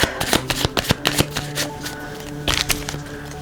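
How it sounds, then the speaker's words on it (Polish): Tarot cards being shuffled by hand: a run of quick riffling and snapping card flutters, close and fairly loud, with busier bursts toward the end and no talking. "musimy przetasować"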